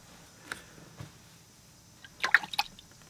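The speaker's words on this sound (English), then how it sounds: "Rinse off the brush, and I come back over here." A watercolor paint brush rinsed in a water jar during a French vineyard landscape painting, heard as a few soft isolated drips and taps followed by a brief burst of faint liquid swishing and clinks near the end.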